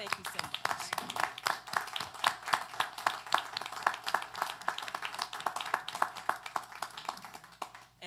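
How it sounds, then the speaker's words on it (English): Audience applause at a Surry County Board of Supervisors meeting, a dense run of fairly loud hand claps from a standing crowd that continues steadily for several seconds before starting to thin out near the end. "give you all a resounding applause"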